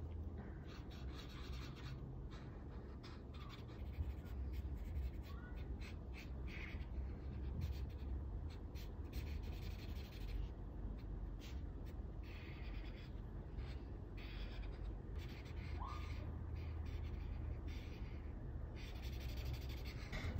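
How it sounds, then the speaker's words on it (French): A yellow marker colors in a drawing of a peeled banana, giving a steady, soft scratchy rubbing of felt tip on paper that runs continuously and close up with no talking. "ensuite je viens avec un jaune colorier tout le reste"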